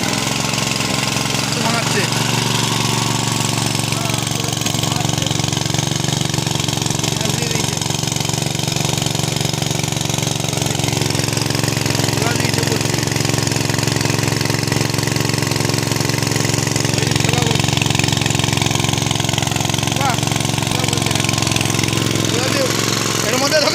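A portable grinding machine mills chickpeas into flour, giving a loud, continuous motor rumble with a rough, knocking texture that holds steady the whole time while voices speak over it.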